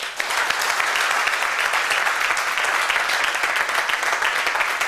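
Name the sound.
applause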